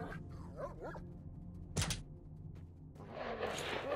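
A dog in the video game STALKER: Shadow of Chernobyl gives a few short barks and whimpers over low game ambience. One sharp impact breaks in midway, and a hissing wash of noise rises near the end.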